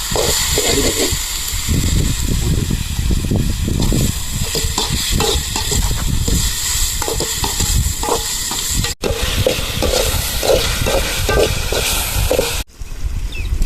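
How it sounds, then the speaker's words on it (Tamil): Oil hits a hot pan with coarse salt already in it and sets off a loud, steady sizzle and crackle. Brief stirring scrapes sound through it for the whole stretch, and nobody speaks. "எண்ணெய் ஊற்றுறேன்"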